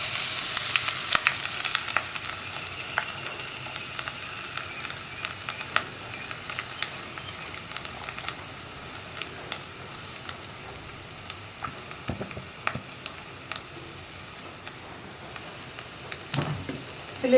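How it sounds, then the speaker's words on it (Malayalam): Mustard seeds spluttering and masala paste with dried red chillies frying in a pan for coconut flower thoran, a continuous close sizzle dotted with sharp pops and crackles throughout. "ഇപ്പോൾ നമ്മുടെ കടുക് പൊട്ടിക്കൊണ്ടിരിക്കുന്നുണ്ട്."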